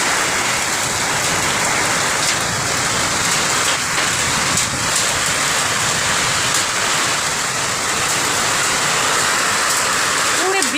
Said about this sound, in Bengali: পুরো বৃষ্টি হচ্ছে, পুরো ধোঁয়া ধোঁয়া দেখা যাচ্ছে